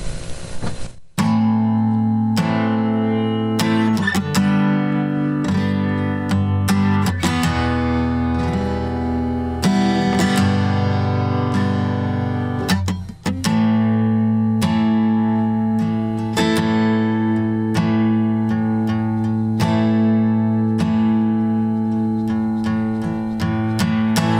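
A full music track plays continuously, with sustained tonal layers and sharp percussive hits punctuating it, loud and up front with no talking.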